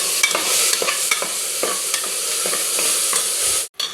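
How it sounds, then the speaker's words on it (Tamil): Rice stirred and sautéed in a pan with softened onion and tomato gives a steady close sizzle, broken by repeated scraping stir strokes, before dropping briefly to near silence. "அரிசியை போட்டு லைட்டாக ஒரு வதக்கிடுங்க"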